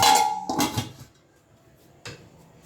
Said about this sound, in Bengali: এটা 2 মিনিটের জন্য আমি ঢেকে দিচ্ছি।